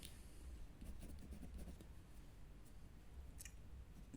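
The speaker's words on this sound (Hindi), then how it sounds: "वो कंडीशन लिखता हूँ मैं।" A pen scratches steadily across paper or a board as a math condition for linear equations is written out, a faint, close scribbling with short strokes and pauses and no talking.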